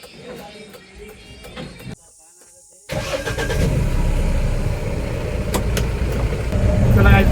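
A BharatBenz truck engine is started: a short quiet hush, then a sudden loud diesel catch that settles into a heavy, broad rumble and grows slightly louder toward the end.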